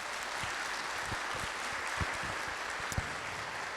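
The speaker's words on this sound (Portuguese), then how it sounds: "Dê uma salva de palmas para Jesus" A church congregation gives a round of applause for Jesus, a dense, even wash of many hands clapping at moderate distance, steady throughout without talk.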